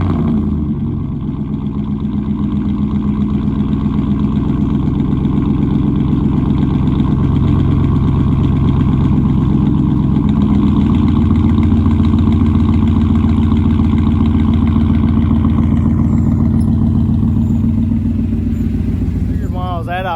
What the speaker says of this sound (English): I'll go ahead and give y'all a little sound clip from the inside on the exhaust